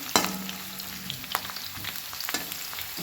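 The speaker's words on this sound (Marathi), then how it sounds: "आता टाकूया बघा तेजपत्ता भाजूया चांगला" Bay leaf frying in hot oil in a pan for a village-style chicken dish, a brief close sizzle with a few sharp utensil knocks and stirring scrapes.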